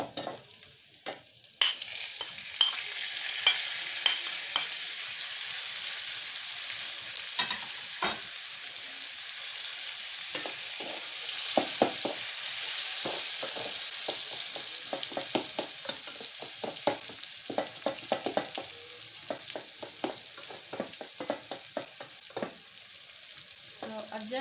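Onion and tomatoes fry in oil for a sukuma wiki mboga sauce, a steady close sizzle running throughout with frequent scraping stirs and spoon clinks, no talking.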